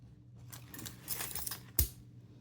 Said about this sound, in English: I have some crochet hooks that just fell out there